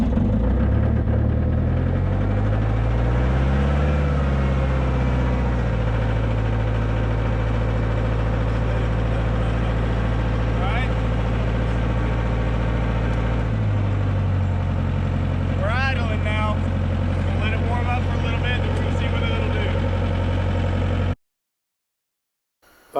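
A tractor engine runs after being cranked, a loud low rumble that settles into a steady idle with shifting pitch, some rattling and clanking over it before the sound cuts off abruptly.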